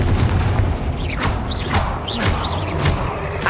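Confringo fire spell blasts in Hogwarts Legacy, a run of booming whooshes every half second or so, each a sharp burst with a rising swish, over a dense, loud bed of combat noise.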